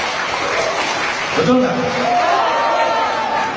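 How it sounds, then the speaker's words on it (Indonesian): An audience claps steadily through a parliamentary session in the Indonesian DPR, with a voice speaking over the applause throughout. "Kalian jangan tepuk tangan seperti itu"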